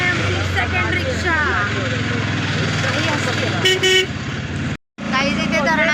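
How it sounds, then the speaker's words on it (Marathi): An auto rickshaw ride with its engine puttering underneath while a horn toots repeatedly in short bursts, people talking over the ride, and a brief dropout near the end. "ही आहे आमची सेकंड रिक्षा।"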